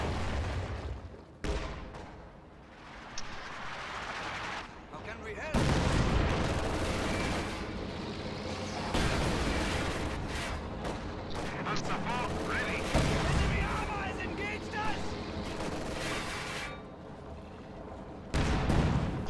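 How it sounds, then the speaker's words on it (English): Tank cannon and gunfire shots in a WWII strategy video game, including a Panzer IV firing, heard as repeated loud booms and rattling bursts over constant rumbling battle noise, with a voice talking throughout. "Panzer IV taking shots over the hedge"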